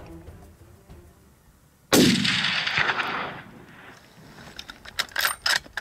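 A rifle shot on a ram hunt, a single sharp, loud report that echoes and decays over a couple of seconds outdoors, followed by faint rustling and mechanical clicks.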